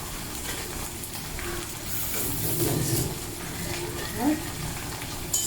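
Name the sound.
chopped onion frying in hot oil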